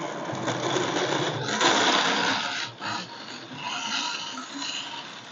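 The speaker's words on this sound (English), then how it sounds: "So blend that up." A Black & Decker blender crushes ice for an iced drink, running as a steady, loud, coarse whir. It rises slightly midway, dips briefly near the end, then carries on at full grind without any talk.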